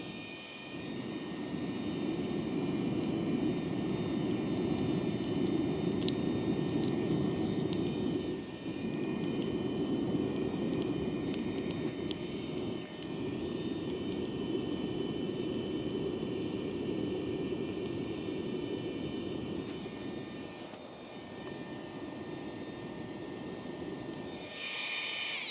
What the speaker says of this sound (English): my little flex tail gear pump. It's amazing, watch this. We're going to get flames in a second.